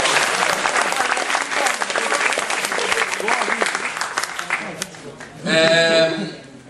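A school class claps for a classmate during a lesson, with dense, steady applause for about five seconds that tapers off before a voice speaks briefly at the end.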